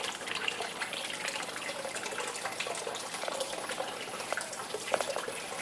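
A bell siphon drains water out of an indoor turtle pond, giving a continuous rushing, gurgling gush with small splashes, fairly close and steady throughout.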